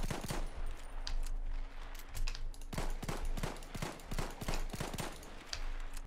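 P08 pistol gunfire in the video game Battlefield 1: rapid, sharp shots fired in quick bursts, loud and close, with brief pauses between the volleys and no voices.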